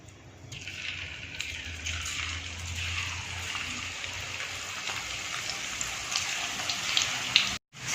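Bitter gourd chips deep fry in hot oil with a steady, rain-like hiss and bubbling that builds slightly and runs unbroken until a brief drop at the very end.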